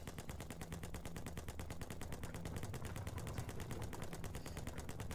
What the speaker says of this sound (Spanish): Pues están cagando a tiros